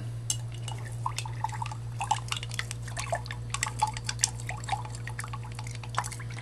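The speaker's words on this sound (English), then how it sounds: "Now what I'm going to do is stir it up." Potassium iodide is stirred into water, giving a run of small irregular clinks, taps and liquid swishes over a steady low electrical hum, close and fairly clear with no talk.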